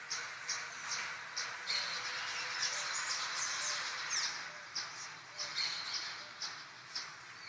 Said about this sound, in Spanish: Pájaros, naturaleza, aves.